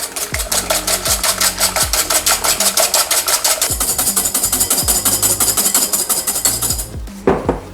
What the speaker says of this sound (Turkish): Yumurtaklarımızı çırpmaya geçiyoruz